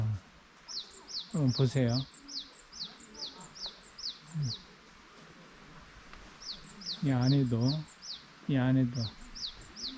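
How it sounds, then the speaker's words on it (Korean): Small birds chirp and trill in quick repeated bursts at Seonamsa temple, a Buddhist temple with plum blossoms in Suncheon, Korea, their high calls running steadily through the clip while someone speaks over them between outdoor sounds. "새소리도 있고, 새소리도 들리고, 새소리 들립니까?"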